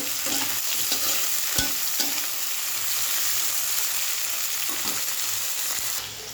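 Four big chopped onions fry in a pan with a steady, close sizzle, broken by a few soft knocks of stirring. No voices.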